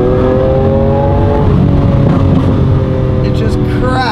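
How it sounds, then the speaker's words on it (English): A Lamborghini Aventador S engine revving loudly and close, with a rising, harmonic roar and sharp crackles as the revs fall, heard on its own. "It just cracks, like, literally, imagine the hurricane and how that cracks and apply that to the Aventador."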